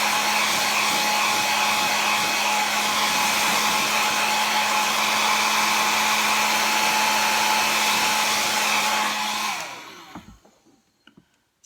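A hair dryer blows steadily and loudly to dry wet paint on an acrylic and collage flower piece, running alone with a constant hum for about ten seconds before switching off and fading, followed by a few faint clicks.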